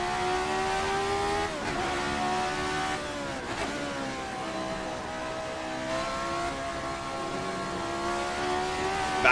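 An RSS Formula 79 race car engine in a racing game, revving hard with rising and falling tonal whine, briefly dipping twice between gear changes, loud and continuous without voices.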